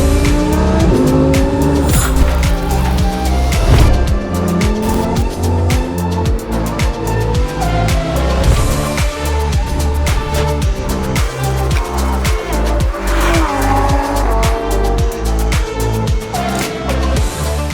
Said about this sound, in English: I thread the Huracan Evo through narrow market streets